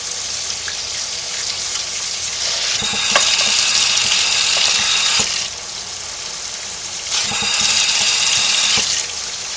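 Water gushes steadily from a tap with a loud rushing hiss, swelling and easing in two longer stretches, up close with faint clinks in the background.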